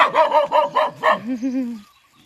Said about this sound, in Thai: เห่าใหญ่เลยไม่ยอมเข้าบ้านเลย